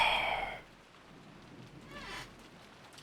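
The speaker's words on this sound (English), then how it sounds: "We can hear the rain." Steady rain falls outdoors as a soft, even hiss, louder in the first half-second and then fainter, with no one speaking.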